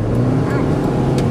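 A car drives along a road in Jaffna, Sri Lanka, with a steady, loud engine drone and road rumble that continue without a break from start to end.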